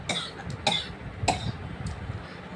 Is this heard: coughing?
yes